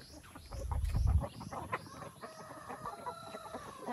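Rhode Island Red chickens cluck softly in a coop, soft repeated clucks and a few higher calls at close range, with a low thump near the start and no talking.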